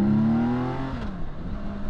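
A BMW K1600B six-cylinder motorcycle pulling hard in second gear at around 3000 rpm in dynamic mode: a smooth rising engine tone that swells, then eases into a lower steady drone, heard up close from the rider's position.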